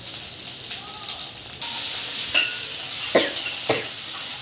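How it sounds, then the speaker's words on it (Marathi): Curry leaves and cut coriander stems drop into hot oil in a pan and burst into a loud, hissing sizzle partway through, with a few spatula scrapes after. "कढीपत्ता टाकलाय हा आपण आता त्यात, आणि ह्या कोथिंबीरच्या दांड्या कापलेल्या टाकल्या मी आता"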